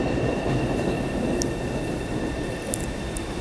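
Boston subway train on the way to TD Garden, a steady loud rumble of the car rolling along the rails with faint high squeals and clicks, no voices.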